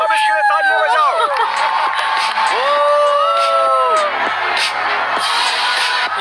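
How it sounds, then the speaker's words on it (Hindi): A crowd claps, whoops and cheers loudly for a $500,000 prize winner at the end of a 100-day circle challenge, a continuous roar with excited shouting voices on top. "सब इसके लिए तालियां बजाओ"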